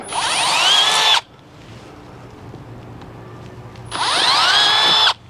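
Two close, loud bursts of a power drill grinding through the metal of a Jeep Gladiator to enlarge rivet holes, each lasting about a second, separated by a few seconds of near silence.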